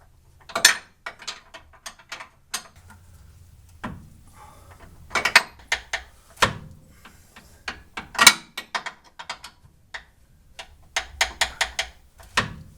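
A ratchet wrench turns a bolt on the front suspension control arms of a second-generation F-Body car: sharp, close metallic clicking in irregular bursts with short pauses between strokes.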